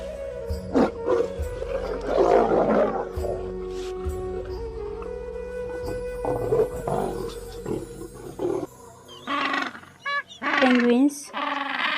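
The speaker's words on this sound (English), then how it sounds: "Lion." A lion roars in deep, rough bursts, close and loud, with a long rumbling stretch early on and a few shorter grunting roars near the end.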